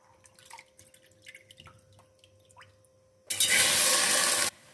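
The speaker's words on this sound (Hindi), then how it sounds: "डेढ़ लीटर पानी ऐड कर देते हैं दाल को गालने के लिए।" Soft clinks and small drips give way to a loud, steady rush of water poured into a pot of chana dal for about a second, then it stops.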